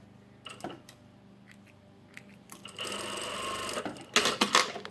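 An industrial sewing machine running a short test stitch: a few soft clicks, then a steady, close mechanical whirr of a couple of seconds ending in sharper rattling bursts.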